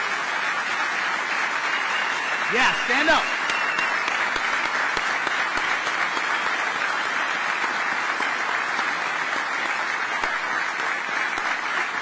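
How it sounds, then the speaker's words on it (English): Sustained audience applause for firefighters at a Florida event, steady and loud with dense clapping throughout; a brief voice calls out over the applause. "So how about a big round of applause for these people?"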